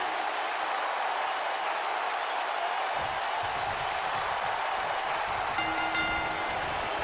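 Crowd applause from a WWE 2K19 video game arena during a Smackdown Live tag team match, a steady wash of clapping and crowd noise that thickens partway through, moderately loud and continuous.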